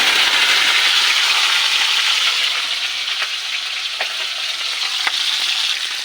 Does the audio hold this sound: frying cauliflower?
yes